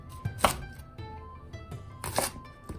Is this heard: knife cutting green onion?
yes